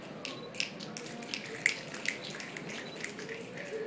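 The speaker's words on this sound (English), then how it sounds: "Before, people used to clap, now they snap." Audience snapping fingers in approval at a university speech, a dense scattered patter of many small crisp snaps running steadily throughout, fairly soft and diffuse like a crowd in a hall.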